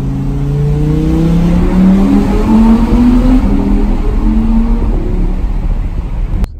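A 2020 Audi R8 with a naturally aspirated 620 hp V10 revs in a tunnel, its loud engine note climbing and wavering with booming echo before dropping away at the end, with no voices.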